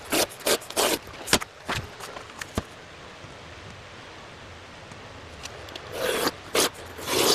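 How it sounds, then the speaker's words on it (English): A rotary cutting wheel slices upholstery fabric for a Vyper chair reupholstery: a string of short, scratchy rasping strokes, close and fairly loud, with a quieter gap in the middle before more cuts. "I like using this wheel because you get nice straight cuts"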